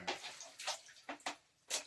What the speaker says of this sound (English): Rinse this pan out.